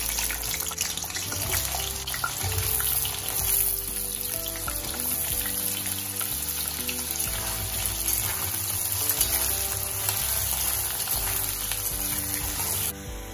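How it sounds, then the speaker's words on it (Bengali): Small slit potatoes frying in hot oil, a steady close sizzle running throughout with faint stirring and clinks, no voices. "এই আলুগুলি আমি তেলে ভালো করে ভেজে নেব"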